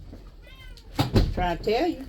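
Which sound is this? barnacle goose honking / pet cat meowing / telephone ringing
pet cat meowing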